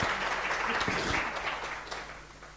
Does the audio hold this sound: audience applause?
yes